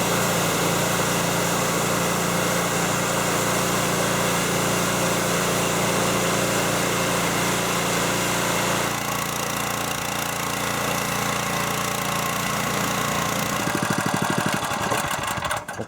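A gas-powered pressure washer for deck cleaning runs steadily with a loud, continuous engine drone. The tone shifts about midway, and the engine winds down near the end.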